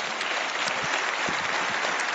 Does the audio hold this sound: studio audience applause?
yes